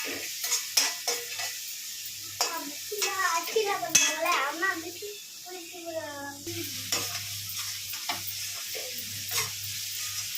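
A prawn thokku mixture with salt is sautéed and stirred in a pan, a quieter sizzle under scraping and clinking utensil strokes, with a voice talking over part of it.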